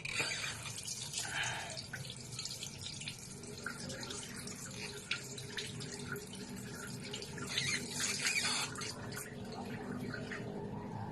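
A tap runs steadily while a wound is washed, water splashing and dripping into a sink with a continuous close rushing wash.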